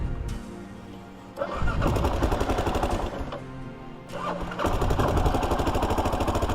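A gasoline vehicle engine cranks and catches, then runs with a rough mid-pitched rumble, dips, and is restarted into a steady running sound, fairly close and loud, with no talk over it.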